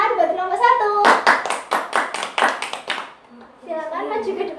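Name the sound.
class clapping for group 1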